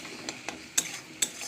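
Paste of onion, ginger, garlic and green chili with ground cumin and a bay leaf fries softly in oil in a wok, a quiet hiss punctuated by a few crisp spatula taps and scrapes.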